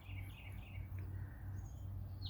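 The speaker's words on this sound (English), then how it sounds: "listening to the sweet, sweet sounding sounds of birds" Birds chirping outdoors in short, faint tweets over a steady low hum, continuous through the brief stretch with no voices.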